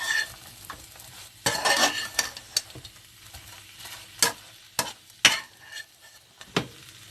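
A spoon works through a sticky plantain puff puff and honey mixture in a bowl, giving irregular scraping and clattering strokes with quiet gaps between them and no voices.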